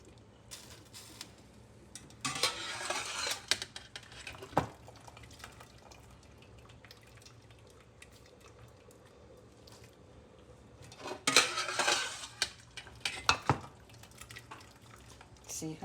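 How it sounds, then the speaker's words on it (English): Cooked macaroni being drained of its water in a pot while making creamy mac and cheese, with two bursts of splashing, dripping liquid separated by quieter clinks and handling noises. "Let's get most of this water out."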